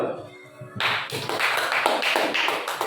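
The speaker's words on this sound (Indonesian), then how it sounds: "Tepuk tangan dulu" Applause from a group at an Indonesian classroom teaching assessment, starting abruptly after a brief voice and continuing as a close, rapid run of claps to the end.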